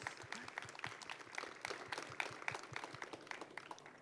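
Audience applause at a talk on trans struggle, a soft, distant patter of many hands clapping in a dense, irregular rhythm for several seconds, faint and without voices over it.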